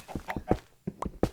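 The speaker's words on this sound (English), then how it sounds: "Oh, I hear footsteps." Footsteps in Minecraft tap out in a quick, uneven series of soft thuds, close and fairly clear with no talk over them.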